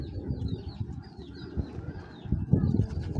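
Pigeons coo in soft, low repeated murmurs, close by, with faint chirps from smaller birds above.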